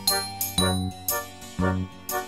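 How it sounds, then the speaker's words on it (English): Bright tinkling bell notes ring out in a regular rhythm, roughly every half second, over a musical backing on the Noddy theme tune, with no talking. "his tinkling bell means he's the happiest little fellow in all Toyland"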